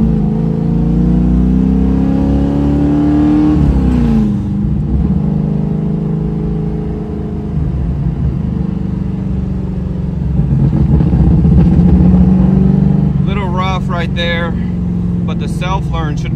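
A boosted hatchback's engine runs and pulls away, a loud mid-pitched drone that rises, dips and climbs again as the car drives around the block, with a voice talking over part of it.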